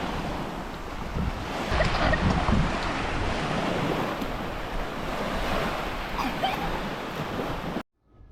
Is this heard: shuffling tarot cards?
no